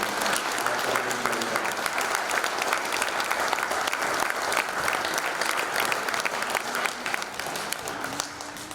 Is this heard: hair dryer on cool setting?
no